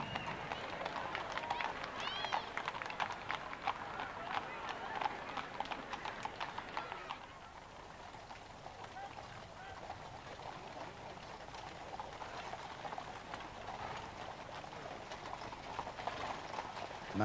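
Horses of the Blues and Royals mounted escort at Trooping the Colour 1989, hooves clip-clopping in a brisk, continuous patter on the road, moderately distant with crowd ambience and a commentator's voice over it.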